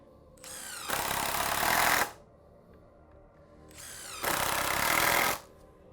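A power drill drives screws into wood pieces held together with a clamp while building a wooden ledge box, two loud sustained whirring bursts of about a second each with a short rev-up, close by, with no talk.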